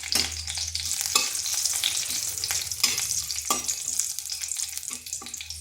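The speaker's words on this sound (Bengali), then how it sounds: "সামান্য একটু তেল দিচ্ছি, এরপর ফোড়ন দিচ্ছি শুকনো লঙ্কা, তেজপাতা, এলাচ আর দারচিনি" Dry red chillies, bay leaf, cardamom and cinnamon sizzle in a little hot oil for a Bengali vegetarian lentil fritter dish, a steady loud crackle broken by occasional stirring scrapes and no talking.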